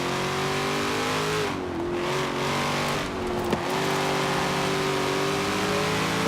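Car engine in Forza Horizon 4, an American car with a large drift wing, revving with a steady sustained drone that dips briefly and climbs again, loud and continuous throughout.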